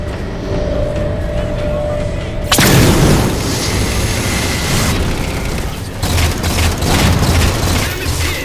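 A heavy, rumbling blast erupts as the Mammoth vehicle is hit in Halo 4, a loud broadband roar that stays dense and sustained amid battle noise, with voices shouting over it.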